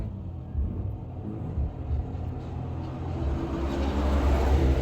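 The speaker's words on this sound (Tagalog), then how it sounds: "ang dami mga sasakyan na dumadaan ngayon" A steady low rumble of many cars and other vehicles passing along a road, continuous and somewhat distant, swelling slightly toward the end, with no talking.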